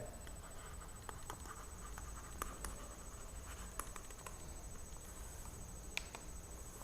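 A pen writes out given values for a Class 10 maths problem, making faint, scratchy strokes and small taps close by over a low background hum, with no voice heard.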